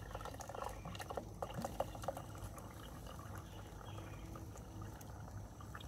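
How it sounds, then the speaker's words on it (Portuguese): Water is poured into a bamboo tube for cooking rice outdoors, a steady trickling and gurgling wash of liquid that stays fairly faint and continuous with no talking. "Pode colocar água, Chico."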